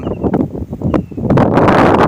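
Strong wind gusts across an open rice field where cattle graze, buffeting the microphone with uneven rushing bursts that build into a loud, steady roar.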